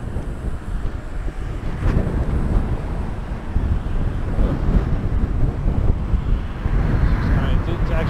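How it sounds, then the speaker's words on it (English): Strong headwind buffets the microphone of a rider on a Ninebot One electric unicycle, a loud, steady low roar and rumble that lasts the whole stretch. "This headwind is bad,"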